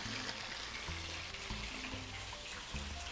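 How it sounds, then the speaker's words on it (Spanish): Water splashing and hissing into a hot cooking pan, a steady broadband wash of sound heard alone without talk, with faint low tones underneath. "Un poquito de agua."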